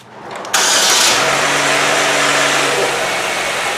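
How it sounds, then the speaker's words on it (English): A car engine cranks briefly and then fires, settling into a steady idle right after an oil change. The tone shifts as oil pressure comes up, and the engine runs loud and close with no talking. "you can hear that change in tone from the time it starts with no oil pressure to the time it gets oil pressure"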